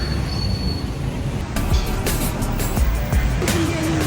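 A train in Thailand rumbles along its rails with drawn-out wheel squeals and rolling clatter. Street noise sits underneath, and a voice speaks briefly in the background.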